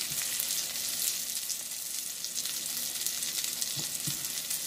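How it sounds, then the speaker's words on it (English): Beyond Burger patties frying in a little butter in a pan, giving a steady, close sizzle throughout with a couple of soft scraping knocks near the end. "Let me flip these burgers real quick. And that little bit of butter has not cooked away."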